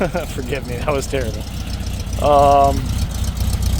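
A 1986 Volkswagen Beetle with a 1600cc single-carburetor engine idles in a steady low rumble throughout, running under close, continuous talking from a man nearby.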